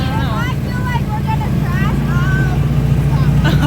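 Motorcycles ride through snow on a family mountain outing, giving a steady engine drone that runs the whole time while people talk over it.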